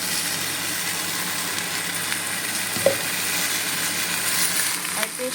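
Pieces of fish frying with a spice paste in a pan over a medium flame, a steady dense sizzle throughout with a couple of faint knocks from stirring.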